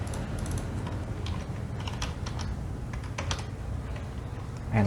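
Fast, continuous typing on a computer keyboard, dense clicking keystrokes close up with no talking.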